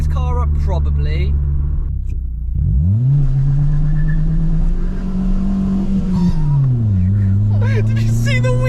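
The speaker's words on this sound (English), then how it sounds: "Just a little bit more noise out of the exhaust" Fiat Punto with a cheap aftermarket exhaust revving loudly up and down, a steady low drone rising and falling close by, with people talking over it.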